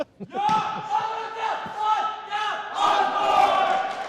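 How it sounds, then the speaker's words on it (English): A small crowd at a men's volleyball game lets out a loud, sustained cheer. After a short opening burst, the chanting voices rise together and hold for several seconds, with a second swell near the end. "they still managed to get the cheer"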